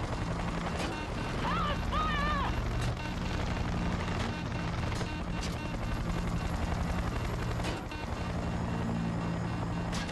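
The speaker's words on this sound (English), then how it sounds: "there's a chopper right here." Helicopter in the video game Battlefield 2042, a steady rotor and engine drone running loud throughout, mixed with battle noise and a brief electronic chirp, while a player talks over it.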